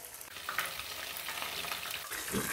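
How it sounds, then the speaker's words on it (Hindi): Chicken frying in a pot makes a soft, continuous sizzle with occasional scraping stirs, close but fairly quiet, with no voices. "चिकन को 4 से 5 मिनट हमने अच्छे तरीके से फ्राई कर लिया है"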